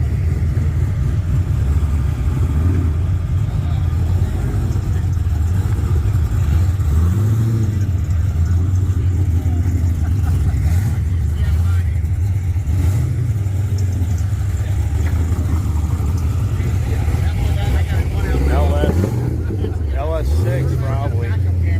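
Cars at a hot Sunday car meet, one with a likely aluminum LS6 V8, rumble and rev steadily in the background while people chat nearby over the constant engine drone.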